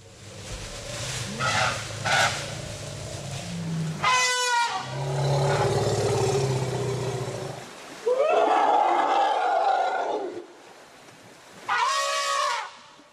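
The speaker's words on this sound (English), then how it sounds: "A loud trumpeting gives warning and gathers the herd." An elephant gives loud trumpeting calls, several blaring bursts separated by pauses, with rumbling low roars between them, strong and close with no voices over it.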